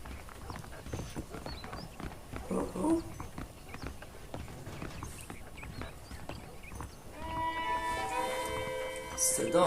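Horses clip-clopping in the video game Red Dead Redemption, a steady patter of hoofbeats on the ground under game dialogue, with a musical tone entering near the end.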